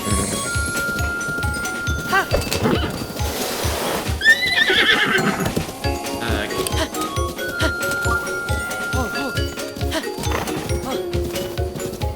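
Rhythmic hoofbeats pound steadily throughout while a horse lets out a loud whinny partway through, with faint talking under the galloping, in The Legend of Zelda: Breath of the Wild.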